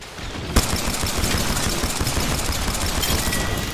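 Automatic weapons fire in the video game Apex Legends bursts in abruptly after a brief quiet moment, then continues as a loud, dense, rapid crackle of shots for the rest of the clip, with no voices.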